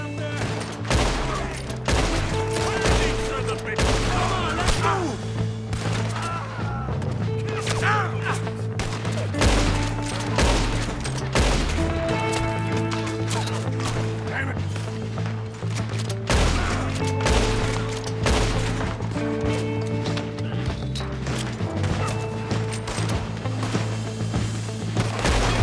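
Rapid bursts of gunfire from Red Dead Redemption 2 crack again and again through a shootout, some in quick runs, set over a steady low musical score and game ambience with no talking.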